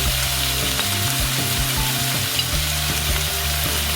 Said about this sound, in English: Fry them until colors of onion are changed into black